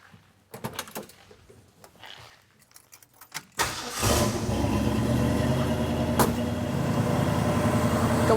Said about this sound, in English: let's start it up and let's listen to the exhaust